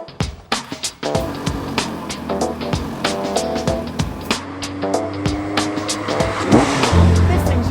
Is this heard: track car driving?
yes